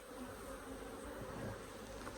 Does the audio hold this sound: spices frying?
no